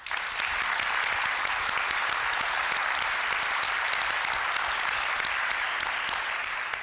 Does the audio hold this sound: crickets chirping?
no